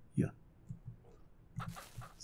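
A chicken in the farming game Ranch Simulator gives a short burst of clucks up close, followed by a few softer clucks and scattered game noises.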